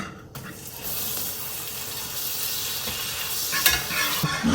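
Butter dropped into hot salted caramel in a pan sets off a loud, sustained sizzle and hiss that swells right after a short quiet start and keeps bubbling to the end.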